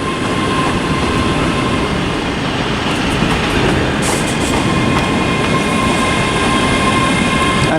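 A Class 385 electric train from Edinburgh pulls into Glasgow Queen Street station, giving a loud, steady rumble of wheels and motors with some squeal and rattle on the rails, heard close and without talk.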